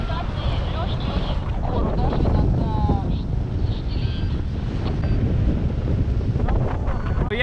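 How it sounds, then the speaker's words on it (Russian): Strong, steady wind in Dagestan buffets the microphone with a loud, continuous roar and low rumble throughout. "Ветер усилился."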